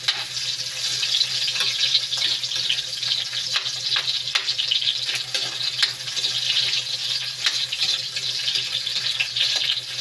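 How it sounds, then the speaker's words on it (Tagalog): Onions sautéing in a pan for pork binagoongan, a steady crackling sizzle with small popping bursts, close and continuous without talk. "Ito na tayo mag-gisa. Unahin natin ang ating sibuyas."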